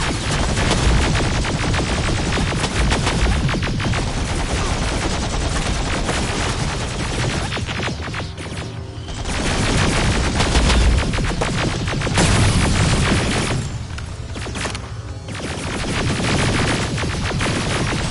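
Heavy sustained gunfire in Terminator Resistance, a dense continuous fusillade of rifle and machine-gun bursts with booming impacts, loud and close throughout with only brief lulls.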